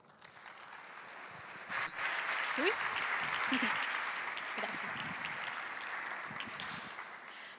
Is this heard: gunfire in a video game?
no